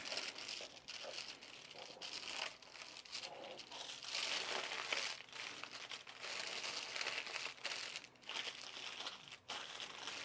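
Paper sewing pattern pieces for a shirt being handled, folded and rolled up, giving a steady close crinkling and rustling with brief louder crumples throughout, no talking.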